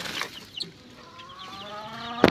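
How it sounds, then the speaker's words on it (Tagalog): Young Belgian Asil chicks, about two weeks old, give soft peeps and chirps close by, with a brief louder clatter at the end. "Ito na ang kanyang mga sisiw"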